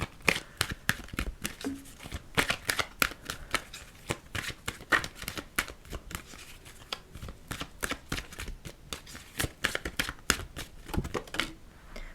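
Tarot cards are shuffled by hand in a fast, continuous run of crisp riffling clicks and flutters, close up and with no speech.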